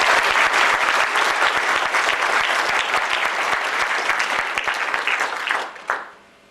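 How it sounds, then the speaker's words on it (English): Audience at the 2002 Australian Skeptics Convention applauding steadily, a dense sustained clatter of many hands that fades out near the end. "perhaps we can give her a round of applause"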